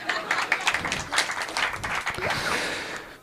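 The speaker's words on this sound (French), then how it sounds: "vous pouvez l'applaudir" A comedy show audience gives a stand-up comedian patchy applause, scattered claps swelling briefly then thinning out into a softer, more uneven patter.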